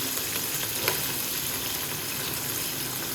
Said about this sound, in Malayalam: ഇതിൻ്റെ കടുക് പൊട്ടി കഴിയുന്നേ ഉള്ളൂ. അതിലേക്ക് കുറച്ച് പച്ചമുളക്, കുറച്ച് ഇഞ്ചി, കുറച്ച് വെളുത്തുള്ളി,